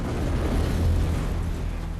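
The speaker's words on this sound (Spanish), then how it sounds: "desencadenando varias erupciones menores, lo cual condujo a una gran explosión" A volcanic eruption and explosion rumble as a deep, continuous roar, loud and close, with no voices present.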